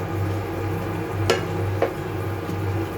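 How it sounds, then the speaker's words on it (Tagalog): Chicken adobo boils in a pan, a steady low bubbling simmer heard close, with a couple of brief utensil clinks against the pan and no talking. "Ayan, nakulo na siya guys."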